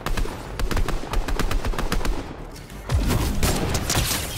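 Loud automatic gunfire in Fortnite, a fast, steady stream of close shots with a brief dip in the middle before firing resumes at full pace.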